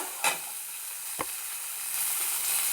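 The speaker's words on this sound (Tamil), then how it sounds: "இப்போ நல்லா வறுபட்டுடுது, வதங்கிடுது." Chopped banana flower fries in a pan for a thuvaiyal, producing a steady bright sizzle close by, with a couple of light stirring taps and the hiss swelling slightly toward the end.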